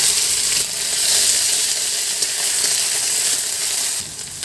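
Spices with bay leaf and ginger-garlic-chili paste sizzle steadily in hot oil for a Bengali kochu shak recipe, a loud continuous hiss that dips briefly near the end.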